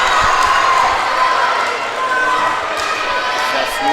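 A volleyball crowd cheering for Greensboro in a gym, a steady roar of cheers and shouts sustained throughout, with a commentator talking over it.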